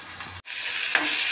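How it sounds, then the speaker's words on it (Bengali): Onions and garlic sizzle loudly in a pan, a dense frying hiss that cuts out for an instant and then resumes with a scrape of stirring. "এবার পেঁয়াজ সব একসাথে ভাজা হয়ে গেছে।"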